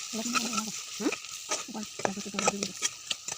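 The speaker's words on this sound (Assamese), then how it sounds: "মছলাখিনি অলপ দি ভাজি ল'ব" A spice paste for an Assamese pork dish is stirred and fried in a hot pan, with repeated close spatula scrapes and strokes in an uneven rhythm over a soft sizzle.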